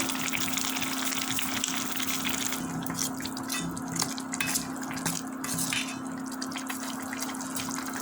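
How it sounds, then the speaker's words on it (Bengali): A pot of liquid seasoned with garam masala and containing beetroot bubbles at a steady boil for vegetable paratha, a continuous close gurgling wash over a low hum with no talking. "বলক উঠে গেছে, এখন আটা দিয়ে দেব।"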